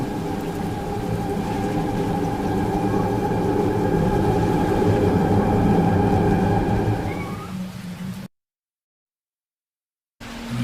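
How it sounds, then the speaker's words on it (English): Choo-Choo Charles, a monstrous half-train, half-spider creature in the survival horror video game, produces a loud, continuous, heavy mechanical rumble with tonal whistle-like layers that grows steadily, then cuts abruptly to silence. "They call him Charles. Half train, half gigaspider from hell."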